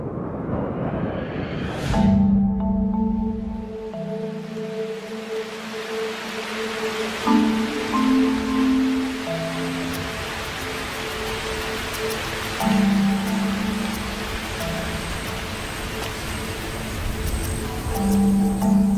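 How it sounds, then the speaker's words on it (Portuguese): Steady rain falls in the Brazilian Cerrado as a constant hiss that fills the whole stretch, with sustained musical tones over it. "Mas a chuva para tão abruptamente como começou."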